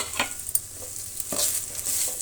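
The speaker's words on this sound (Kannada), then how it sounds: "ಲೈಟಾಗಿ ನಾವು ಸಿಮ್ನಲ್ಲಿ ಫ್ರೈ ಮಾಡ್ಕೋಬೇಕು ಈಗ ಕೊಬ್ಬರಿ ತುರಿನ" Grated coconut fries lightly on low heat in a pan with curry leaves for coconut rice while a spoon stirs it, soft sizzling under a few close scraping strokes.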